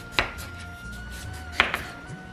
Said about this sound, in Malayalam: അതിനുശേഷം ഇതുപോലെ അരിയുക.